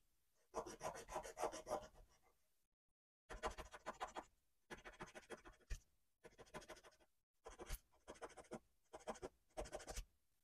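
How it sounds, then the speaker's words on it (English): A bead is filed by hand before dyeing, with quiet, close rasping strokes in short rhythmic bursts, about seven scraping passes separated by brief pauses. "I'm going to file this one as well"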